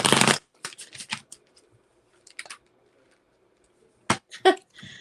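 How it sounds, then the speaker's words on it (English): A deck of oracle cards being shuffled in short, crisp riffling bursts, a loud one at the start and several more scattered through, separated by quiet gaps. "then I shuffled from my love deck"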